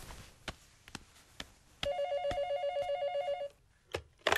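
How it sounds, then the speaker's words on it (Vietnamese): A telephone rings in one steady electronic trill of rapid pulses lasting about a second and a half, heard amid scattered knocks and thumps in a comedy sketch. "Điện thoại reo anh ơi"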